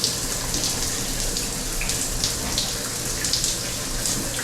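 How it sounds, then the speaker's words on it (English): Water runs steadily from a tap in a continuous, fairly loud broadband hiss with a light splashing texture and no talking. "I just like the water flow"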